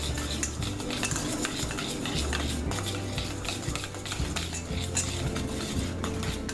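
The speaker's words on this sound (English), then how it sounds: "Stir that in." Cracked pepper being stirred into potato salad in a bowl, soft repeated scrapes and clinks of a utensil against the dish, close and fairly quiet, with no talk.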